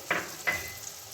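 Ginger paste drops into a pan of frying onion, garlic and tomato for chicken biryani, giving two quick sizzling bursts that fade into a soft, faint frying hiss.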